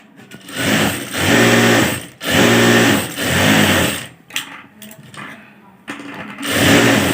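An electric sewing machine stitches saree fabric to a lining in loud bursts of rapid whirring, each lasting a second or two, with brief pauses between runs and a few clicks in the gaps.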